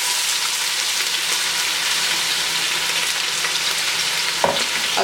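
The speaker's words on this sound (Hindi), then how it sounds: "तो देख लें प्याज यहाँ पे हो गए अच्छे से फ्राई।" Onions with cumin sizzle in hot oil in a pan for an aloo shimla mirch dish, a loud, steady crackling fry up close, with one brief clink of a utensil near the end.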